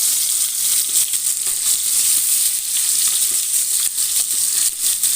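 Fish fries in hot oil with green chilli pieces in a pan, a loud, continuous crackling sizzle with small pops throughout.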